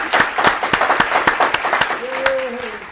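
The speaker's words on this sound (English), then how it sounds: "let's give a round of applause for Meridith" A studio audience gives a round of applause on a local talk show, with distinct sharp claps at a fairly regular pace, and a voice joins in toward the end.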